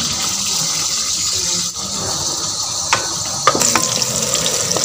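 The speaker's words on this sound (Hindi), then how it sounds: "अब प्याज को ब्राउन करेंगे।" Sliced onions fry and brown in hot ghee in a pan, a steady close sizzle with occasional clinks and stirring knocks toward the end.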